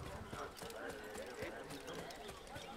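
Horse hooves clip-clop in the Assassin's Creed video game, faint and steady under game ambience, with no one talking.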